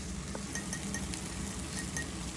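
Beef brain frying in a covered pan during a Bangladeshi recipe, a faint, soft sizzle with scattered light crackles and a clink or two, steady and close throughout.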